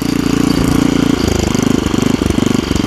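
An original Merry Tiller chain-drive tiller engine runs steadily close by, a loud, rapid, pulsing mechanical chug with a regular rhythm and no talk over it.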